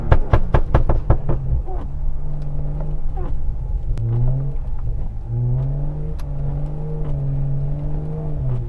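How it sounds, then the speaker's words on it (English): A rear-wheel-drive BMW 535i drives through snow. A run of quick knocks opens, then the engine drones steadily, its pitch rising and settling as it revs and eases, heard from inside the car with no talking. "So far, I mean, the car, it's doing pretty good in the snow."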